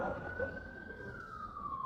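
A passing ambulance siren sounds as a sustained wailing tone that slowly dips in pitch, faint and distant over low traffic rumble.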